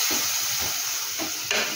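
Food stirred in a pot with salt water and rock salt, a continuous hiss and sizzle with a few soft scraping strokes, close and alone.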